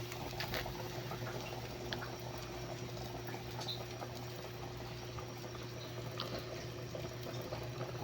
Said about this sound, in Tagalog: Ayan na nga, kumukulo na.